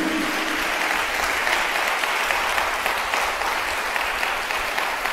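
A church congregation claps in steady, dense applause for a few seconds, a continuous even roar of many hands with no speech over it.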